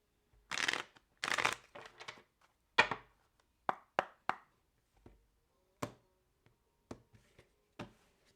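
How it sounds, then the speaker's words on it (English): Tarot cards being shuffled by hand, a few rustling riffles followed by sharp taps and slaps of the deck, close and dry against a quiet room. "One more shuffle."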